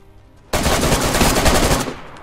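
Sustained automatic gunfire in the video game Gliniska Siege bursts in suddenly and loud, a dense rapid rattle lasting over a second before cutting off, with no talk over it.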